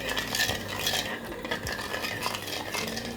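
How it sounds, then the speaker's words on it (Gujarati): Sugar syrup is stirred continuously in a pan with a steady scraping swish of a utensil, close and moderately loud, with a faint bubbling sizzle underneath. "અને એને કન્ટિન્યુઅસ હલાવવાનું છે એમાં બબલ્સ થાય ત્યાં સુધી આપણે આની ચાસણી લેવાની છે"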